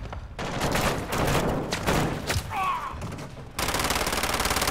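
Rapid shotgun and gunfire blasts in the video game Modern Warfare 2, a loud dense fusillade of shots in bursts with a brief quieter gap before heavy firing resumes.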